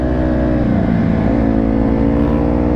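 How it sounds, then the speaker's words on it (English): A Dodge Hellcat drives past and swerves, its engine holding a loud, close, steady roar with a brief surge in the middle. "Yo, that's Braap's freaking Hellcat right there, bro."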